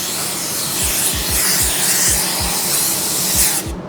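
Compressed air blowing down a car in a spray booth, a loud continuous close hiss with faint rhythmic pulsing underneath, cutting off abruptly at the end.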